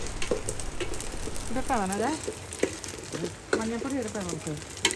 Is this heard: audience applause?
no